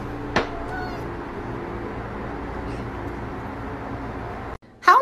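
A house cat gives a short sharp meow near the start, then low steady background noise hums along before a louder burst of sound at the very end.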